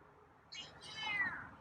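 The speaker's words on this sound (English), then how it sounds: "that's a meow" A single drawn-out cat meow, faint and close, rising then trailing off against a quiet background.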